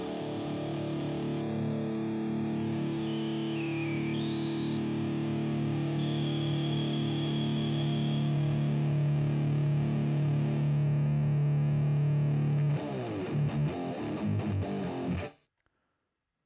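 A sustained, heavily distorted guitar tone from a GarageBand amp simulator, with bright, fizzy high end around 4 kHz, rings out loudly, then chops into a short burst before cutting to silence.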